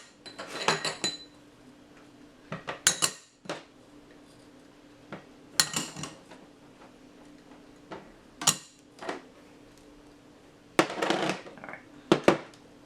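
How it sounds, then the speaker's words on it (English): Taco seasonings mixed together in a bowl for air-fried crispy tacos, heard as scattered light clinks and scrapes of a utensil against the dish in short bursts with quiet pauses, fairly close and soft. "let's go ahead and actually mix all of the seasonings together"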